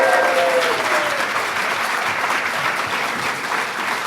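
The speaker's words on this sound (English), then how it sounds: "A round of applause for Adelia Jimenez." Audience applause at a July 4th celebration at the National Archives, dense and steady clapping from a large outdoor crowd, fairly loud throughout with a brief whistle at the start.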